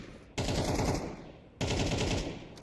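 Gunfire in Counter-Strike 2 during a competitive match: two long, rapid bursts of automatic shots, each over a second, separated by a short gap. Loud and close, with no voices.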